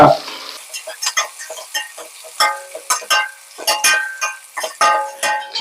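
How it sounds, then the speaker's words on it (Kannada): Onions frying in a pan for pudina and peas pulao, a loud close sizzle broken by quick, busy scrapes and clinks of a spatula stirring against the pan. "ಈಗ ಈ ಈರುಳ್ಳಿ ಅಂತಕ್ಕಂಥದ್ದು ಸ್ವಲ್ಪ ಹದವಾಗಿ ಹುರಿಬೇಕು."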